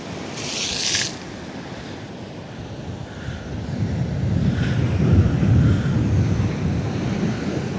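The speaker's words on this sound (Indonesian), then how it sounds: "Ombak pantai selatan ki ngeri" Heavy surf of the south coast rumbling and crashing on Tegal Kamulyan beach, Indonesia, with gusty wind buffeting the microphone; no voices.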